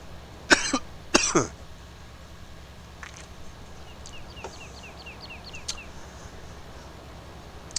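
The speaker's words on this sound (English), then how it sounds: "Trying to use your vapor, and it makes you fucking cough." Two short, harsh coughs close to the microphone, caught while a streamer plays Farming Simulator and vapes. Faint game sounds follow, including chirping birds.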